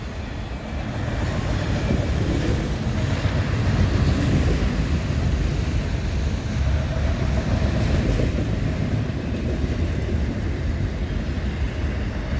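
CN freight train 397 passes milepost 75 on the Dundas Subdivision near London, Ontario, a CN locomotive leading, producing a sustained loud rumble of rolling cars that swells slightly mid-pass and continues steadily without speech.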